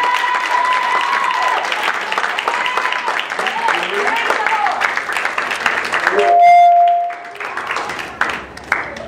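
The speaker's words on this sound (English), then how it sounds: "let's give God a hearty TCC clap" A church congregation breaks into sustained, loud clapping and cheering that fills the room, easing off as a microphone hums and someone speaks briefly near the end.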